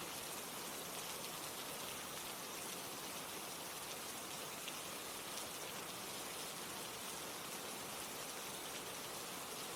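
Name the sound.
rain falling, sleep aid background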